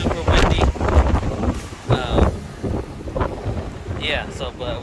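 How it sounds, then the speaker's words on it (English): Strong wind buffeting the microphone at a rocky ocean cove, with heavy rumbling gusts and surf noise in uneven bursts, while people talk through it. "It is super windy."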